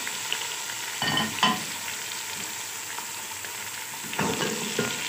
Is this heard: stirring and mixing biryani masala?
yes